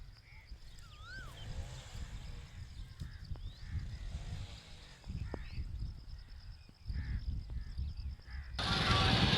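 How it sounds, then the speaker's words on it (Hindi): A koel calls a few times in a lush outdoor setting, its whistled notes standing out against low rumbling background noise, before a loud rushing burst takes over at the end. "ये कोयल की आवाज़ कितनी प्यारी हो रही है"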